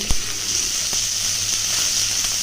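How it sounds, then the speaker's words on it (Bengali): Chopped onion hits hot oil in a pan while cooking a data (drumstick) dish, giving a steady, loud sizzling hiss throughout with a brief clatter at the start. "এবার পেঁয়াজ কুচি দিয়ে দিচ্ছি এই তেলের মধ্যে"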